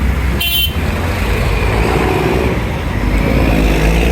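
Dense road traffic fills a city street near Quezon Boulevard with a loud, constant engine rumble, and a short car horn toots near the start.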